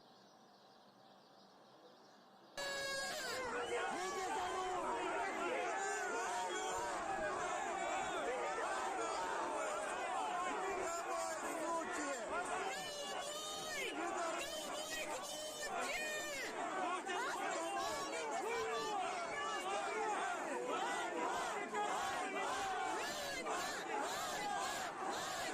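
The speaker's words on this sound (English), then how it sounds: "this is every day this crowd is getting bigger and bigger and bigger in Kherson" After a couple of seconds of quiet, a big crowd gathered in a Kherson street bursts into loud, continuous chatter, many voices overlapping and shouting close by.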